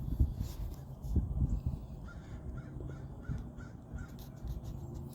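Crows caw repeatedly in the distance, a series of short harsh calls spread across several seconds over a low rumbling outdoor background.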